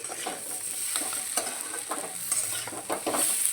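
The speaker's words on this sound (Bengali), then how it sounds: "খুব ভালো করে আলু মাছের মাথা দেখো কষিয়ে নিয়েছি" Catla fish head and potato pieces sizzle and fry in a pan while being stirred, a continuous crackling hiss with scraping stir strokes, close and without talk.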